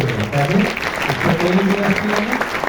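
Audience applause at a Hindi poetry gathering, a kavi sammelan, steady loud clapping from a crowd that lasts the whole stretch, with a voice speaking over it.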